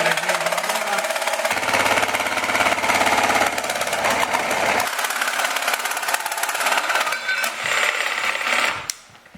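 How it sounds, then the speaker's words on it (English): A handheld jigsaw cuts through a Mazda Miata center console plate, making a loud, continuous buzzing rasp with a rapid reciprocating chatter that wavers as the blade works around a corner, then cuts off at the end. "this is my first time with the jigsaw"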